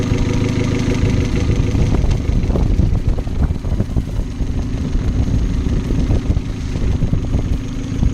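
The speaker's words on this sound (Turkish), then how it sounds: "egzozun sesi değişti" A car exhaust idles close by after helium is fed into the car, a steady rumbling burble with slight fluctuations, some wind noise mixed in.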